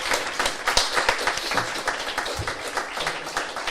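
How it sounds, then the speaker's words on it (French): A hall full of people applauding at a Mont Blanc Marathon event in Chamonix, dense continuous clapping that holds at a steady, fairly loud level throughout. "Je pense qu'on peut vraiment tous les applaudir dans la salle"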